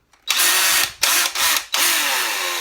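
A Dewalt cordless drill runs in screwdriver mode with its clutch engaged, loud and close, whirring in several bursts separated by short pauses.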